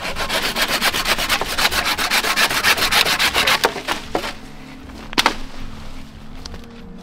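Handsaw cutting wood outdoors, fast rhythmic rasping strokes close by that slow and stop partway, followed by a few scattered knocks.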